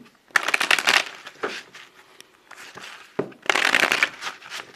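A deck of tarot cards is shuffled up close in two loud, rapid riffling bursts, with softer card handling and rustling between them.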